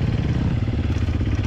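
The engine of a Sherco 300 SEF Factory off-road motorcycle runs with a steady, low, throbbing note that stays close and loud for a short stretch, with no talking.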